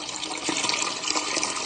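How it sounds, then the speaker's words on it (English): Water pours into glass jars packed with fruit for home preserving, a steady, close rushing and splashing that holds at an even level without pause. "Now I just need to add water"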